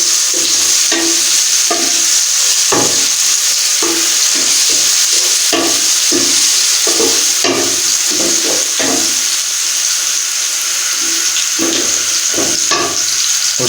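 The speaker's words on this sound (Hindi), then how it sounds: "अभी हम इसमें लहसुन और अदरक का पेस्ट ऐड करते हैं।" Browned onions frying in a pan with garlic-ginger paste for a Lahori chicken chickpea curry: a steady close sizzle broken by repeated scraping stirs of the spoon throughout.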